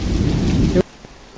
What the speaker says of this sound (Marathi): खूप असा पाऊस चालू झालेला